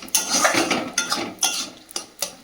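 Dishes and cutlery clink and scrape sharply at home as rice is served onto a plate, several close, distinct knocks spaced across a couple of seconds with no voices.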